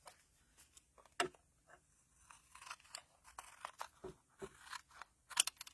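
Scissors trimming patterned paper in a series of quiet, close snips and crisp cuts with short pauses between, heard without any voice.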